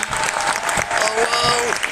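Crowd applause for a Warhammer 40,000 Titus cosplayer at a cosplay final at Paris Games Week, a dense, loud burst of clapping with voices and cheers mixed in.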